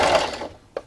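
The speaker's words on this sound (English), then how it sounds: "So now I'm just going to backstitch." A sewing machine backstitches on a scrappy fabric dish scrubber, giving a brief burst of fast mechanical whirring that cuts off, followed by a single soft click.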